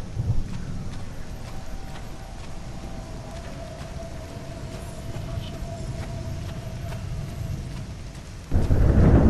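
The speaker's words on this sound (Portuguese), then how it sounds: "Trovão seguido de relâmpago, clarão." A low, steady rumble of thunder in a dark horror video game rolls on under faint rain, then a sudden loud crack of thunder breaks in near the end.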